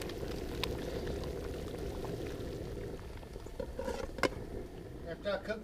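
A country ham simmers in a pot of water outdoors, giving a steady close bubbling and rolling boil with a few sharp pops and splashes near the end.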